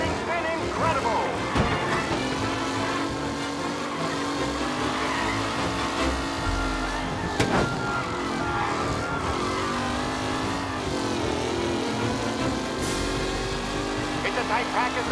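Race cars roar around a track in Mafia: Definitive Edition, a dense pack of engines droning and revving steadily throughout, with occasional whooshes and tire noise under an excited commentator's voice.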